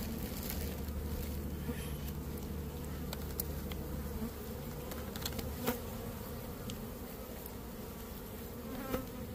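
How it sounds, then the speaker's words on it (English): Honey bees buzz steadily around a collapsed comb during a hive rescue, a dense continuous droning hum with occasional closer passes of individual bees. "Now the bees will attach the comb to the frames and the strings."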